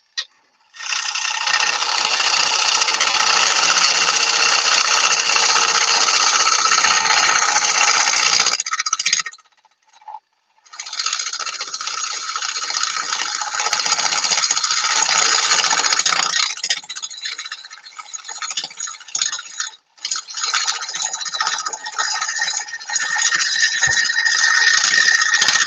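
A chisel cuts into a 4-inch blank spinning on a big wood lathe, giving a loud, harsh, sustained scraping roar that runs in long stretches, broken by a couple of brief pauses.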